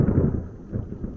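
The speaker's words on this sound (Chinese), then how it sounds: "这还有雷声呢" Thunder rumbles low and deep over Dashiwei Tiankeng in Leye, Guangxi, under dark storm clouds with rain falling; the rolling sound swells, eases, then swells again for about a second, with no voices.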